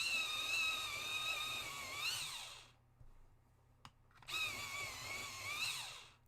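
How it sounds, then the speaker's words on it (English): A 2B graphite pencil is sharpened in a motorised sharpener, producing two loud whirring bursts of grinding separated by a short pause with a faint click. "grab my 2B, give it a sharpen"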